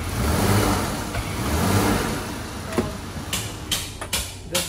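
A high-mileage Dodge Charger engine idles steadily while the car sits in reverse gear, a low continuous hum with a few faint clicks and knocks toward the end.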